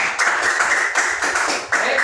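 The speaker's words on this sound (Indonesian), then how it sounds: "Tepuk tangan untuk kelompok 2" Classroom applause for a student group after a poetry reading, a short burst of brisk hand clapping from a small group, close and steady with slight pulses.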